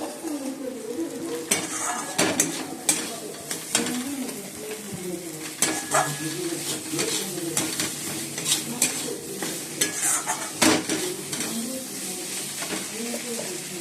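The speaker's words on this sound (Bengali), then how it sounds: "এই যে বন্ধুরা মশলা এবার কষে নিচ্ছি। তেলও ছেড়ে গেছে।" Spice paste stir-fried in oil in a Bengali home kitchen, a steady sizzle with repeated scraping stirs throughout, birds cooing faintly in the background.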